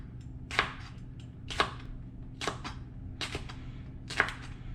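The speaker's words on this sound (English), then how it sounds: "The jalapenos we're just going to slice thin." A knife slices whole jalapenos thin on a cutting board, giving about five crisp, separate chopping taps at a slow, uneven pace, close but moderate in level over a low steady background hum, with no talking.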